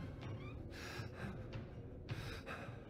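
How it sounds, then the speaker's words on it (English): A video game character breathes heavily in repeated ragged gasps and huffs, each breath rising and falling over a low, steady rumbling background, close and fairly loud with no talking. "He's breathing way too heavy."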